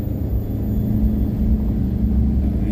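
A vehicle engine labours in first gear up a steep S-bend on the Trenggalek–Munjungan mountain road, giving a constant low, strained rumble that stays close and steady throughout, with no one talking.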